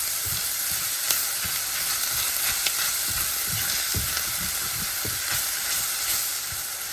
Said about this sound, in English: in a saucepan, go ahead and add our sausage and go ahead and brown that up